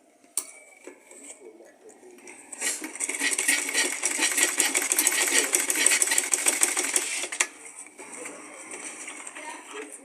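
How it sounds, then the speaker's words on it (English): A sewing machine stitches a leather purse, running in a steady rapid burst in the middle after light handling clicks, close and fairly loud with no one talking. "You sew it straight."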